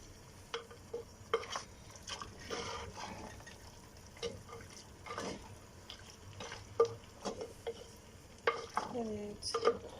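Beans stirred in a clay pot with a utensil, producing soft, irregular scraping and clinking strokes near the mic, faint and spaced out over a quiet background.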